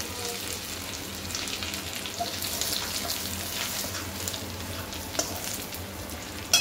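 Steady close sizzling of Malvani masala and curry leaves frying in a pan for egg masala, a dense hiss with occasional soft stirring clunks and a sharper knock at the end.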